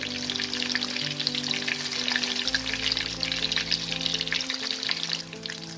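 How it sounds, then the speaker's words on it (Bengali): Oil sizzles steadily in a pan as fish fillets fry, a constant close crackle and spatter with a low hum underneath. "মাছটা দুপাশ থেকে আমার এরকম লাল করে ভেজে নিতে হবে।"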